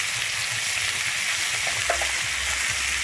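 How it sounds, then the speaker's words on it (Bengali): Potato and eggplant pieces get mixed with salt and turmeric in a hot pan, giving a steady, even sizzle with soft stirring scrapes and no talking. "আমি লবণ আর হলুদটা খুব ভালোভাবে মিশিয়ে নিচ্ছি এখানে।"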